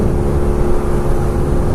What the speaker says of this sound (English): Now this is the air-cooled Boxer engine